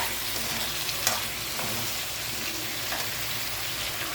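Potatoes and carrots with garlic sautéing in a pan give a steady, close sizzle throughout, with a few light stirring scrapes and taps over the continuous frying hiss.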